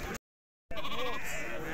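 A sheep bleats near the microphone at a Thursday livestock market, one drawn-out wavering call over busy background crowd noise after a brief dropout.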